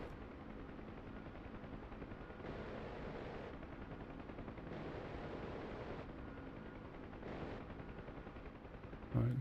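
AI ground units firing guns in the flight simulator DCS World, long sustained bursts of distant automatic fire in three stretches over a steady engine-like drone, fairly faint throughout.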